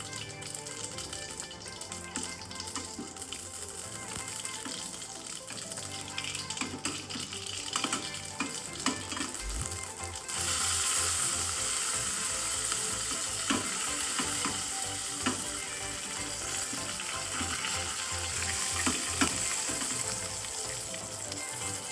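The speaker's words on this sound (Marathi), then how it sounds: "सांसवां घातले की आमी करपील घालुया." Mustard seeds and curry leaves sizzle and crackle in hot oil while cooking a jackfruit vegetable dish, a steady dense frying hiss that grows louder and brighter partway through, close and continuous.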